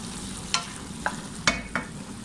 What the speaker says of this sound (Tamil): கொஞ்சம் கூட கிளறி கிளறி விடுங்க